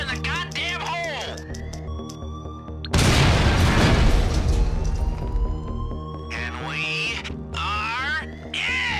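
A loud explosion bursts during a casino heist in GTA 5 Online, a heavy booming blast that swells suddenly and then decays amid sirens and game effects, with voices heard before and after.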